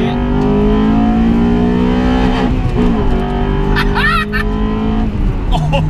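A Honda car pulls hard in second gear toward 5,000 RPM, its engine note rising and loud, with a brief shift-like dip midway and someone talking over it.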